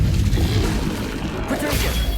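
Incendio fire spell cast in Hogwarts Legacy, a dense whooshing, crackling burst of flame with rough impacts throughout, loud and close.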